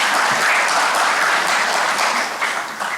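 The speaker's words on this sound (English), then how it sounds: "Let's have a round of applause, please." An awards ceremony audience at the 2025 AIA awards claps steadily, a dense, loud wash of applause that holds for the whole stretch and eases off a little near the end.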